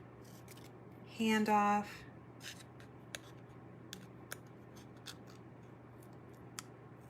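Scissors cutting paper during a craft session, one short close snipping burst followed by faint scattered ticks, with quiet talk.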